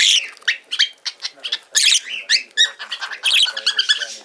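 A lovebird kept as a hand-tame pet squawks and chirps in a rapid series of sharp, shrill, close-up calls with short gaps between them, loud and alone.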